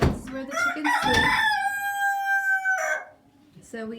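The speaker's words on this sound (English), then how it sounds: "And here are a lot of the chickens." Chickens inside a chicken house, a rooster crowing loudly and close with a long drawn-out call, plus clucks from other birds before and after.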